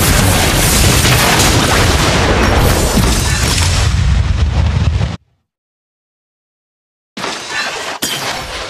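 A turret being destroyed in the Mobile Legends game: a loud, sustained crash of booming explosion and shattering debris that cuts off into silence, then resumes with more game sound.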